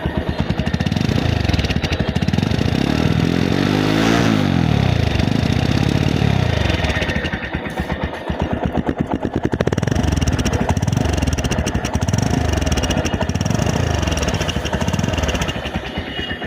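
A used TVS Stryker motorcycle engine runs close by, a loud, steady mid-pitched thrum with a rev rise and fall early on, then settling into an even idle.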